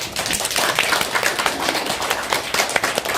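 Studio audience at a Korean presidential candidates' policy debate applauding candidate Heo Kyung-young, a dense, even round of clapping that carries on steadily for the whole stretch.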